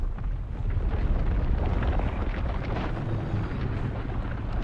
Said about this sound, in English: Spice explosions.